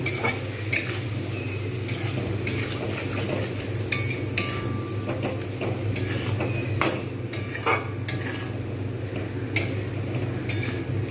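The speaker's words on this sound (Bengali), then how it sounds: "কিন্তু আমি এটা একটু নাড়ব" A spoon stirs biryani masala with chili, turmeric and salt in a pot for Hyderabadi chicken dum biryani, scraping and clinking against the metal in irregular taps over a steady low sizzle, close and fairly loud with no talking.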